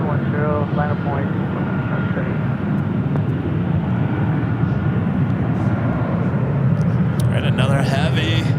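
A KLM airliner takes off from runway 24 left at LAX, its steady broad engine roar filling the scene while radio voices talk over it.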